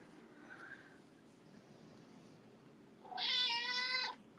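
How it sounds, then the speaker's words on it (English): A house cat meows loudly and clearly near the end, a single drawn-out, strongly harmonic call after a faint, quieter mew earlier, with low room noise throughout. "Now my cat hears the other cat."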